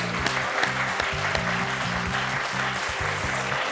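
Studio audience applause for the winning contestant of a French TV quiz show, steady broadband clapping under a looping, rhythmic musical sting.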